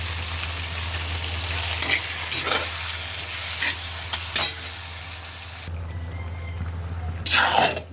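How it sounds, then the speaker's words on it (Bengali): Young jackfruit hitting a pan of browned fried onions sets off a steady close sizzle, with stirring scrapes and a few louder bursts as the pieces are turned. "এখন আমরা ইঁচড় দিয়ে দেব"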